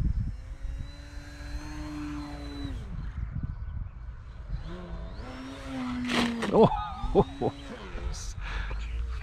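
Radio-controlled Future Model 38-inch Edge 540T airplane flying on a windy morning, its electric propeller buzz rising and falling as it passes, with some louder close-range whines near the end.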